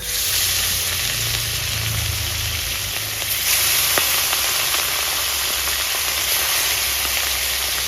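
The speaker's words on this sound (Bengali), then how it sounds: "মাছটা ভেজে নেবো" Black carp pieces fry in oil for a village-style curry, giving a loud, steady hiss of sizzling with scattered faint crackles throughout.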